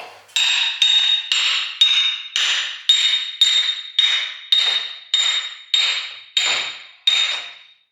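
Parts driven into a welded Mazda Miata rear differential with a hammer, about fifteen loud, evenly spaced ringing metallic blows, each decaying quickly, with no voices.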